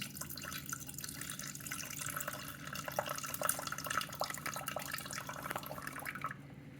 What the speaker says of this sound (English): we're gonna add a lot of vinegar